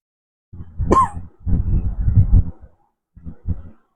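A man coughs in several harsh, close bursts, a long rough fit followed by shorter coughs after a pause, loud against silence.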